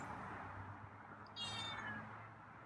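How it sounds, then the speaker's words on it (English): A single drawn-out meow from a hungry feral cat awaiting its meal rises over a quiet background hum, fairly faint and close, with no one speaking. "So the longer I wait, the more meows I get."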